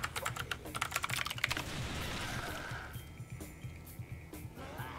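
Rapid keyboard typing during a typing game on a Vigor GK50 Elite mechanical keyboard, a dense burst of key clicks in the first second and a half followed by sparser, scattered keystrokes over a background game sound.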